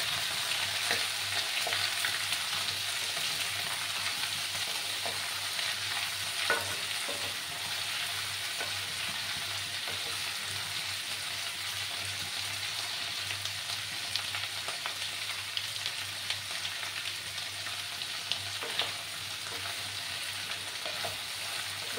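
Cucumber moong dal is stirred in a frying pan over the stove, with a continuous low sizzle and occasional soft spatula scrapes running steadily throughout.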